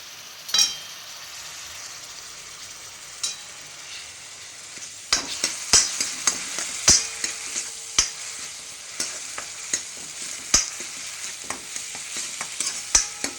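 Onion and tomato paste frying for chole in a pan, a soft steady sizzle joined by sharp metallic scrapes and clinks of stirring that grow busier about halfway through, without any talking.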